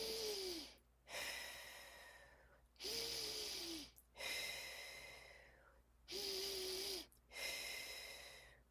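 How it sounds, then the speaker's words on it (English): Three slow, deep breaths, each a long inhale followed by a drawn-out exhale, close and clear in a quiet setting with no talking. "pause and take 3 slow, deep"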